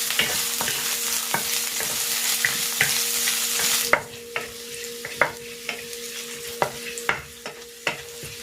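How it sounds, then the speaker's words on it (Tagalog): Ginger and garlic sautéing in hot cooking oil in a pan, a steady bright sizzle punctuated by repeated sharp scrapes and taps of a utensil stirring against the pan, close and loud. "Maglalagay na ako ng cooking oil. Igigisa ko na tong luya"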